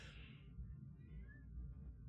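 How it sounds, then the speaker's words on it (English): A faint cat meow at a door rises briefly near the start, distant and muffled under a low steady background hum. "Oh, I hear my cat meowing at the door."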